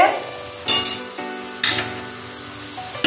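Spice masala frying in oil in a pan for a cabbage dish, a constant sizzle punctuated by a few louder bursts as the mixture is stirred, close up and without speech.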